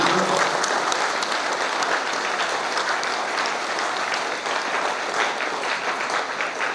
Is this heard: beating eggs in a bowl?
no